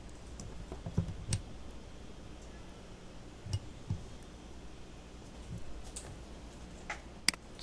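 Computer keyboard keys clicking at a desk, a few faint, sparse taps scattered over quiet room noise, with irregular gaps between presses.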